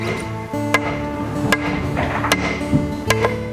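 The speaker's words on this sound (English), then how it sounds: "I need a sledgehammer for Ryan" A sledgehammer strikes logs on a log cabin kit home, giving four sharp, loud blows spaced irregularly over a steady background hum.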